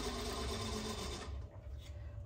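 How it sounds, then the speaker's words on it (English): A sewing machine runs steadily while stitching a quilt block, a continuous close whirring hum that eases slightly toward the end. "I'm just going to sew the whole block from beginning to end"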